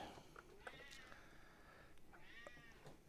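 A person imitates a cat, giving a few drawn-out meows at low volume in a quiet room.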